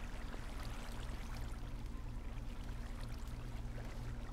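Steady flowing water inside a Minecraft mineshaft, a constant even rushing wash that holds at the same level throughout with no pauses.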